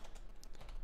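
A computer keyboard being typed on at close range while code is entered, giving a quick run of light clicky keystrokes with no speech.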